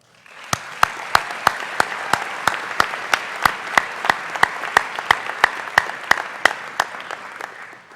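Steady audience applause at a dental school graduation ceremony for the class of 2012, sustained clapping from a large crowd in a hall, with a rhythmic stream of louder individual claps standing out near the front.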